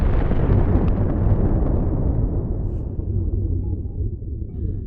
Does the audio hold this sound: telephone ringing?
no